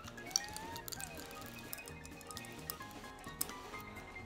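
Popping candy crackles in a mouth, a faint, irregular patter of tiny pops and snaps continuing quietly throughout.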